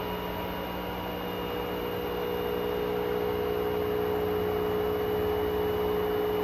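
A 9 kg LG front-load washing machine runs quietly, giving a steady low hum with faint tonal whine and soft broadband noise throughout, with no voices.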